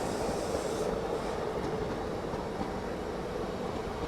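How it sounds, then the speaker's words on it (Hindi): A passenger train rolls past on the Indian rail line during a Tirupati–Jammu Humsafar Express journey, a steady dense rumble with faint clickety-clack, heard alone at moderate level. "ये मेरे ख्याल से कोई पैसेंजर ट्रेन है"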